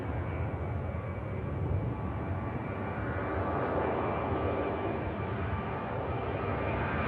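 Engines of a Qatar airliner passing near Manchester Airport over Stockport, a steady broadband jet roar with a low rumble, held at a constant level from a moderate distance with no talk.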